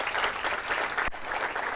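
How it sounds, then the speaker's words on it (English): A conference audience at a climate justice summer school in Nairobi applauds, a dense, steady wash of clapping with one sharp thump partway through. "Let's clap for them."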